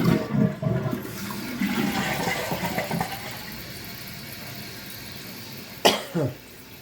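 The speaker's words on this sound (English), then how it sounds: "Let's flush it." A toilet flushes with a rushing, gurgling swirl of water that fades over several seconds, followed by a couple of short, sharp knocks or clunks near the end; brief talk and a cough sit under the start.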